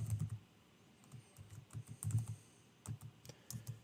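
Fast, uneven typing on a computer keyboard during a programming lecture, a soft run of clustered key clicks with short pauses, close by and without talk.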